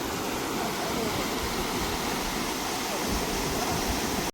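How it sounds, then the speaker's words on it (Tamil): Fast water rushes steadily through a broken causeway at the Vattuvakal bridge, a loud, continuous roar with no letup until it cuts off. "இந்த தண்ணிகள் வந்து வேகமாக வாரதால் இது பாருங்கள், இதில் எவ்வளோ வேகமாக அந்த தண்ணியில் இழுக்குதான்னு"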